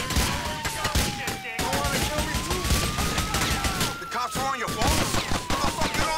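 Gunfire in the video game GTA IV: The Ballad of Gay Tony, with dense bursts and volleys over a continuous bed of game music and effects while someone talks throughout.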